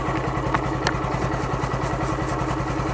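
A motorcycle engine idles steadily nearby during bike chain cleaning, a continuous low rhythmic thrum with a couple of faint clicks on top.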